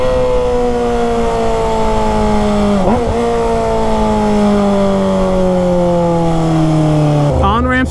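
A car speeds up along a highway on-ramp, its engine note climbing steadily through a gear before a quick shift and another rise. The engine is loud and close throughout, with no voices over it.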